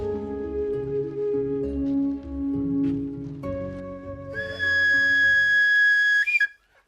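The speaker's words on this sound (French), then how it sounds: "Des coups de sifflet pour rallier les autres Dozo postés sur les lieux" A series of loud whistle blasts from Dozo hunters, starting with lower wavering tones and rising to a long, piercing shrill blast that cuts off abruptly.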